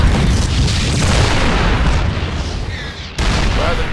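Siege tanks shell Protoss cannons in the StarCraft 2 campaign, a loud, continuous roar of heavy booming artillery that rumbles without pause, with a brief dip before it surges back.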